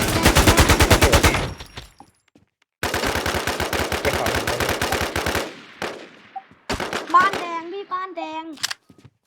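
Automatic gunfire in the video game Warz DeadDayz: rapid machine-gun bursts rattle loudly, pause, then resume in a long stream, followed by scattered single shots and electronic game sounds, with a voice talking at times.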